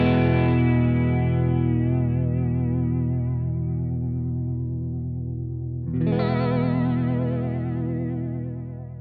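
Sustained guitar chords through an EarthQuaker Devices Aqueduct vibrato pedal, the pitch steadily warbling up and down; a second strum comes in partway and rings out.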